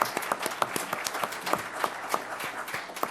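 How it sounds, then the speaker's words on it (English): A board meeting audience applauds steadily for about three seconds with dense, fairly close clapping that holds an even level throughout and carries no talk. "let's give her a round of applause."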